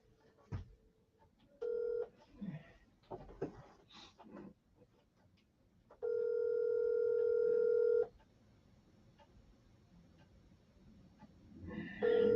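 A telephone rings in two steady electronic tone bursts, a short one near the start and a longer one lasting about two seconds, close and clear against a quiet room with scattered small noises between.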